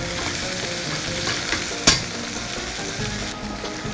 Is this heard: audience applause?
no